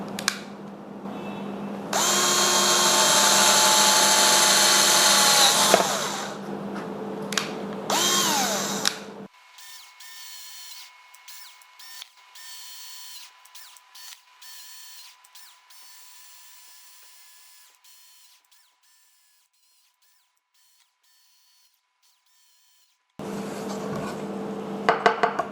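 A power drill boring many holes into a structure runs in loud, high whining bursts, with a long near-silent gap and softer clicks and handling noises in between before drilling resumes.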